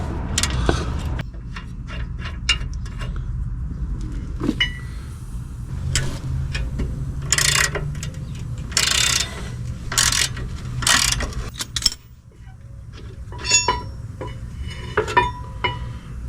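Ratchet wrench with an 18 mm socket working the tight rear caliper bracket bolts on a 2003 GMC Yukon during a brake and rotor job: repeated clicking ratchet strokes in bursts, close and fairly loud, with some metallic clanks.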